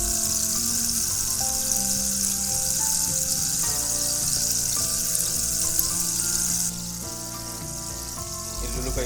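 Curry leaves frying in oil for a prawn pickle give a continuous crackling sizzle that lasts throughout, with background music playing and a slight drop in the hiss near the end.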